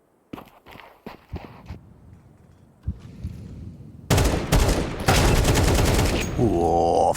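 Rifle gunfire in a Counter-Strike match, opening with scattered sharp single shots and footsteps, then loud rapid automatic bursts that run almost without a break to the end.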